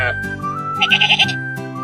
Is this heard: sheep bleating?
yes